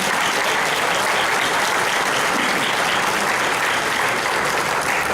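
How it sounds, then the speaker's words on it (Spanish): Loud, sustained applause from a large crowd, dense and even throughout without any talking. "Un fuerte aplauso para Verónica Valdés, por favor"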